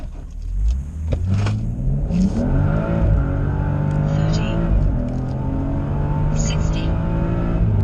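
A stage 2 BMW M235i launches down a quarter-mile strip with wheel spin, its engine climbing hard through the revs in one loud, continuous acceleration, then holding a steady high drone.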